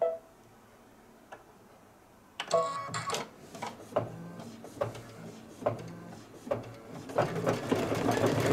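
A sewing machine stitches a blanket stitch around an ironed-down applique, starting after a quiet pause with a rapid mechanical whir broken by regular ticking clicks and short bursts, close and clear with no talk.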